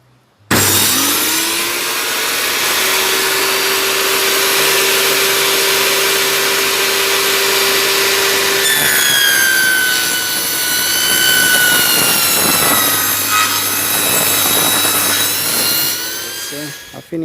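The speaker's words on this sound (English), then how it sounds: "this is a pallet board. I'm going to rip it down now to size" A power saw rips a wooden pallet board down to 1.5 inches for a beehive bottom board. The motor spins up to a loud, steady whine, then its tone shifts and wavers under load before dying away.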